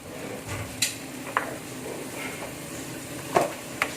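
A spatula stirs pineapple into sweet and sour chicken in a pan, with faint sizzling and several sharp clinks of utensil against metal at irregular intervals, close and fairly quiet.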